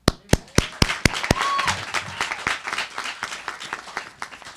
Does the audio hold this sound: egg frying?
no